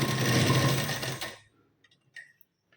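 A sewing machine stitching a blouse runs in a steady, loud mechanical whir for over a second, then stops abruptly, leaving a few faint clicks and small handling sounds.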